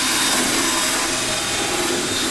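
A small wire wheel scuffing paint off metal to prepare a welder ground spot: a steady, harsh, close abrasive whirring and scraping that holds without pause.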